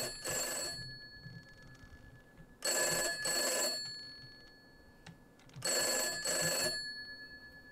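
A telephone bell rings in the horror video game From Day To Day, two quick trilling bursts per cycle repeated twice, clear and bright over a dim ambient bed.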